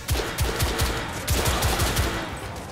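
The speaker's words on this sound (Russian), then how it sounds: "Обстрел какой-то лютый" Heavy, rapid gunfire in The Order: 1886, a dense barrage of close, loud shots in uneven bursts that carries on without a break, with no voices.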